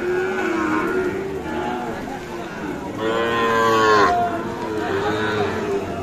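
Young Sahiwal bull calves, about four to five months old, at a rainy cattle market, mooing loudly and repeatedly in long drawn calls close by, with faint crowd chatter behind.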